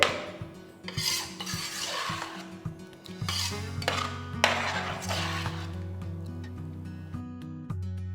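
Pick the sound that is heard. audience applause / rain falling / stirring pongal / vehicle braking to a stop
stirring pongal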